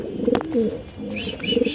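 Pigeons of large fancy breeds, kept for sale, coo in low, throaty repeated phrases close by, with a few brief higher chirps mixed in and no speech.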